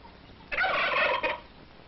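A Texas turkey lets out a single loud, close gobble lasting about a second, a rapid warbling burst over quiet background.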